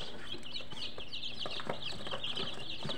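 Day-old chicks in a brooder warmed by a solar-powered heater, many chirping at once in a continuous high peeping chorus, close and steady, with light scuffling underneath.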